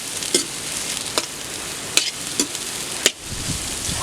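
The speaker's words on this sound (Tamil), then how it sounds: "ஒரு கப்பு பீன்ஸு ஒரு கப்பு முட்டைகோசு ஒரு கப்பு கேரட்டு எல்லாத்தையும் சேர்த்து வணக்கிக்கலாம்" Beans, cabbage and carrots sautéing in a hot pan, a steady sizzle broken by several sharp scrapes and knocks of a stirring spoon, with no talk.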